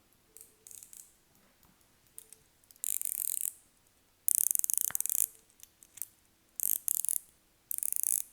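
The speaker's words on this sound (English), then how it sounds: "And this bezel action, bezel response here, feedback" The rotating bezel of a Gevril Wall Street 39mm Pepsi watch clicks up close, with bursts of rapid ratcheting clicks broken by brief pauses and separate single snaps.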